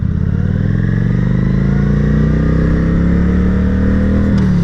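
A sport motorcycle rides and leans through turns, its engine droning loud and steady throughout with a slowly rising pitch and rough, buzzing mechanical texture, close to the microphone.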